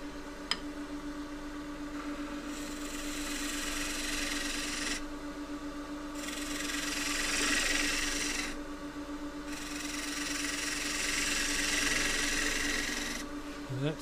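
A wooden stool turns on a woodturning lathe while a cutting tool works it, giving a steady motor hum under a rasping cut that swells and drops in long passes, with brief pauses between them.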